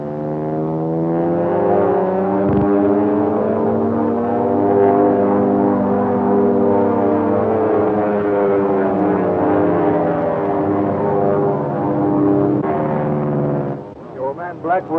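A 1930s propeller airplane engine runs on a test flight, holding a loud, steady droning hum close by that cuts off abruptly near the end.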